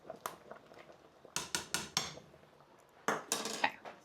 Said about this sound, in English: my soup is boiling behind me, so I'm going to give it a stir.